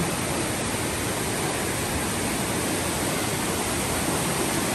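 Brown floodwater from Sagpulag Falls, swollen by a typhoon, rushes past in a steady, dense broadband roar, loud and close without pause or voices.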